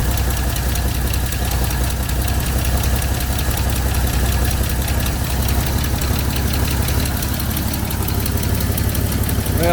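Steady, loud idle of a Ford Bronco II engine, heard close up with an even mechanical knock and vibration that lasts throughout with no talking.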